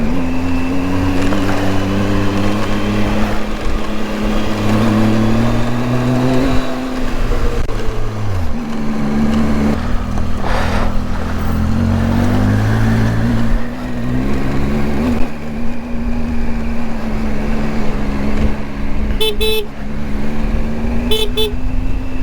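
Vehicles move along a Ladakh mountain road with a steady, loud engine drone that shifts in pitch, and brief horn toots sound near the end.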